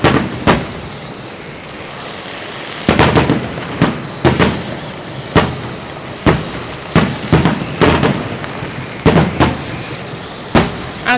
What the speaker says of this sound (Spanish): Es ruido de pirotecnia, ¿sabías?